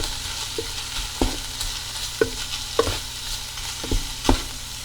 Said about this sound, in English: I'm going to stir that around a little bit